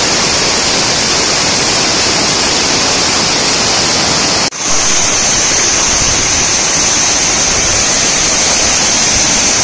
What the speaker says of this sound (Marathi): धबधब्याची भव्यता बघा, जबरदस्त आहे, जबरदस्त.